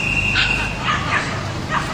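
A dog barks a few short yips at an outdoor dog show demonstration in Wales, heard faintly at a distance over steady low crowd and ground noise.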